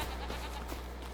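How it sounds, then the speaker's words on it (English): Goats bleating in Farming Simulator 25, a pen of six adult goats with kids, a steady soft murmur of farm-animal calls over constant low game ambience. "As you can see, we have 6 total adult goats."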